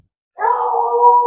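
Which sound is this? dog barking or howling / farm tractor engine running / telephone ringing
dog barking or howling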